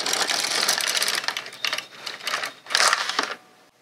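An LK 150 knitting machine carriage sliding across a row of needles gives a rattling, clicking mechanical run that comes in two close bursts with a short lull between them, with no voices over it.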